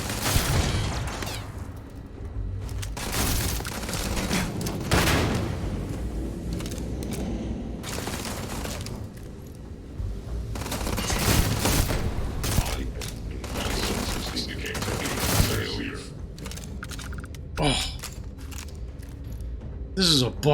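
Pistol fire from Starfield gameplay during boarding of a ghost ship, several sharp shots scattered among a busy mix of game effects, booms and mechanical noise, with voices talking over much of it.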